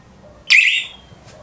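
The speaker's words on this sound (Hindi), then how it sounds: "2 बार बीप हुआ मतलब ये भी ऐड हो गई" A wireless PIR home/shop security system sensor being paired, giving a loud, clear electronic beep, mostly one main tone with a faint second blip after, close by and with no talking.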